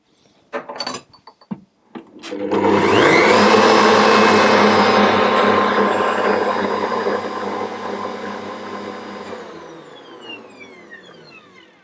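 Ankarsrum Assistent stand mixer running loud and steady for about seven seconds, beating vanilla into cake batter, after a few brief knocks, then winding down and fading.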